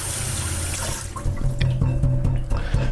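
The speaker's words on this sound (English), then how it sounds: "I'm gonna wash this broccoli." Running tap water pours steadily into a kitchen sink as fresh broccoli is rinsed under it, a close, continuous splash that shifts and clatters faintly as the florets are turned in the stream.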